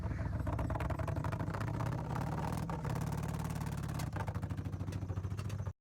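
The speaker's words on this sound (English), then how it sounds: "Customer states their Dodge Caravan has no power and sounds bad." A Dodge Caravan engine with no power running badly, a loud, rough, rapid pulsing drone that stays steady for several seconds and then stops abruptly.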